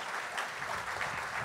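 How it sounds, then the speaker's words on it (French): Audience at a civil society debate applauds the speakers, a short, even spell of crowd clapping with no talk over it. "Vous pouvez les applaudir."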